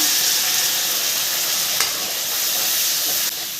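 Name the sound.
garlic and ginger frying with ground tomato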